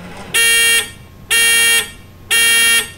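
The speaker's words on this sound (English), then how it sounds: "The buzzer will beep 3 times," An electronic timer buzzer beeps three times in a steady rhythm, each beep loud, piercing and about half a second long.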